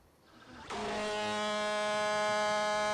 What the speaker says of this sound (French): La corne de brume, c'est le signal d'alerte aux populations quand les barrages sont en péril